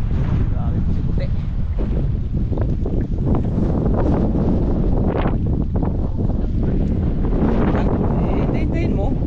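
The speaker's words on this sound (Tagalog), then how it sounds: "Lakas pa ng hangin" Strong wind blows steadily across the microphone outdoors in a continuous roar, with people talking over it.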